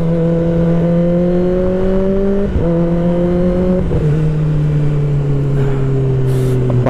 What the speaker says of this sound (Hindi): बाइक भी है ना अच्छी साउंड कर रही है